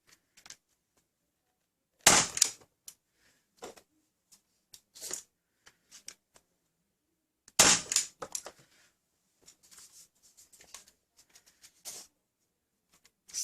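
Umarex Rekt Opsix CO2-powered dart blaster firing full-length X-Darts: two loud, sharp pops several seconds apart, each followed by faint clicks and handling noises, close by.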